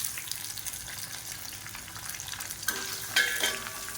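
Crushed garlic and small shallots fry in a pan for a coriander thokku, giving a continuous dense sizzling hiss, with a light metallic clink and brief stirring near the end.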